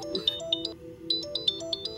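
A phone ringtone plays a bright, repeating electronic melody of short chiming notes, clear and close, with no talking.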